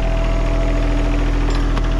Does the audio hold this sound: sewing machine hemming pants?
no